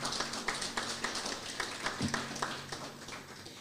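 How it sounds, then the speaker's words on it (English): Audience applause at the KCCU scholarship and bursary awards ceremony: a steady patter of many hands clapping, moderately distant, with scattered sharper claps throughout. "So let's just give the KCCU a round of applause."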